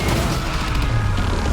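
A big movie explosion in a Steven Seagal action film roars as a loud, dense, continuous rumble with crackling debris, filling the whole stretch without letup or voices.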